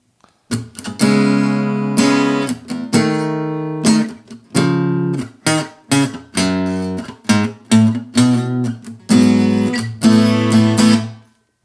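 Strummed acoustic guitar chords ring out in a steady rhythm, each chord struck and let sustain briefly before the next, close and clear with no talking.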